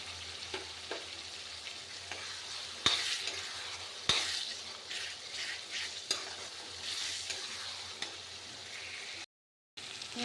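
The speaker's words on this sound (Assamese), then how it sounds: "চাওক মটৰখিনি ধুনীয়াকৈ ভজা গৈছে, তেলটো উপঙি আহিছে ওপৰত" Peas and potatoes frying in oil in a pan on the stove give off a continuous close sizzle, broken by a few sharp stirring scrapes and knocks, with no talking.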